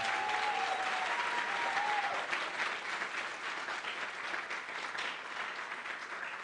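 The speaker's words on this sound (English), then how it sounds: "Let's give our second graders a round of applause." An audience at a school kick-off celebration at Cummings School applauds a group of second graders, with steady, dense clapping that stays loud and full from start to finish.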